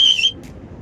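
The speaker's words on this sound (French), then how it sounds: "toi tu as droit à coup de sifflet" A single sharp whistle blast sounds loud and close for about a third of a second, then cuts off, leaving only a low, muffled room background.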